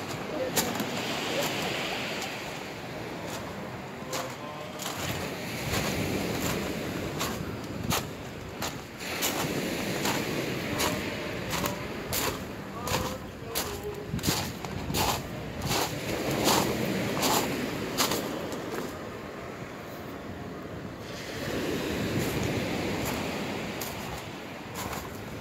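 Winter sea waves surge and wash onto Massandra beach in Yalta, Crimea, under steady wind buffeting the microphone, with faint voices in the background.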